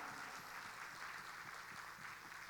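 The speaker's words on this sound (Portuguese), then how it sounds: "Dê um aplauso à igreja do Senhor Jesus" Faint, steady applause from a church congregation, a continuous wash of clapping heard from a distance with no voices on top.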